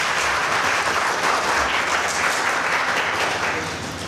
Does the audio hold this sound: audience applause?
yes